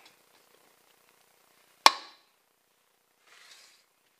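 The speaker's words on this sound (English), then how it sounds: "and close the clamp." Quick clamp on a duct fitting snapping shut, a single sharp metallic click that stands alone in near silence, followed by a faint brief rustle.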